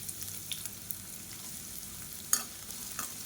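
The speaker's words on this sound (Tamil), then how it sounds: "நல்லா 2 கைப்பிடி அளவுக்கு பெரிய வெங்காயம் பொடியாக கட் பண்ணதை சேர்த்துக்கலாம்." Finely chopped large onions frying in a pan for a cauliflower-pea rice dish, a soft continuous sizzle with occasional stirring clicks and one sharper scrape, close and quiet with no talk.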